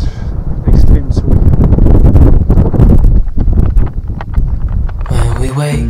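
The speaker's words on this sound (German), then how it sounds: "Der Wind hat jetzt zugenommen" Strong wind buffets the microphone outdoors on a trip through Italy, a loud, continuous roaring rush with gusts, and a person speaks under it before music starts near the end.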